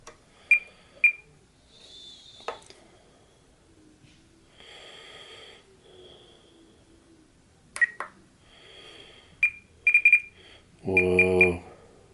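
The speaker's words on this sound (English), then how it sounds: "I wonder what that beep means." A small electronic gadget, just switched on and lit up, gives short high beeps in scattered bursts, single tones and quick double and triple chirps, fairly close in a quiet room, with a low buzzing rattle near the end.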